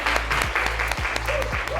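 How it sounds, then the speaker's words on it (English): Students at a nail class clap in a steady round of applause, close and sustained throughout, with a few voices faintly underneath. "So I want you to give yourself a round of applause"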